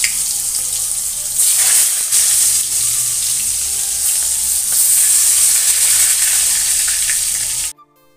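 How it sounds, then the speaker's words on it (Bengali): Eggplant slices frying in mustard oil in a wok give a loud, steady, close sizzle that runs unbroken for about seven and a half seconds before stopping abruptly, with no voices. "উল্টে পাল্টে ভালো করে আমি বেগুনগুলো লাল লাল করে ভেজে নেব।"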